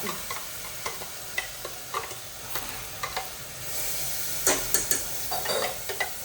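Onion, ginger, garlic, chili and neem leaves fry in hot oil for an aloo pyaz kachori filling, giving a steady close sizzle broken by repeated scraping stirs and clinks against the pan, with no talking.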